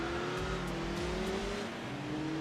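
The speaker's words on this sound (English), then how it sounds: "you can definitely hear the more aggressive engine note now" A car engine runs hard during vintage racing on the Nordschleife in the game Enthusia Professional Racing. The aggressive engine note holds a steady, droning pitch that rises and dips slightly as the car accelerates.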